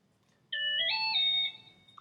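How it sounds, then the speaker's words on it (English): A phone plays a short notification chime, a bright rising two-step electronic tone lasting about a second, close and clean against near silence. "my phone's doing a notification"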